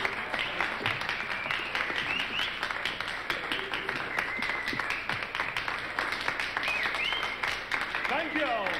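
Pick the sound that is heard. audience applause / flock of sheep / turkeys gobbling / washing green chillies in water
audience applause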